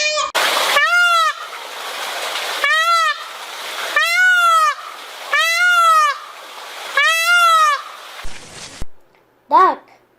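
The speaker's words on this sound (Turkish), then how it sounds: "Tavus kuşu." A peacock gives a series of loud, piercing, wailing calls, about five drawn-out cries spaced a second or so apart over a rushing water background, with a short spoken word near the end.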